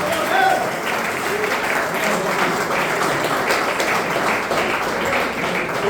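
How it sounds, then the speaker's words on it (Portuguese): Steady, full applause from a church congregation during a family worship service, a dense wash of clapping that holds at an even level throughout, with voices mixed into the crowd noise. "Vamos aplaudir o Senhor porque Ele é digno de toda a honra e glória."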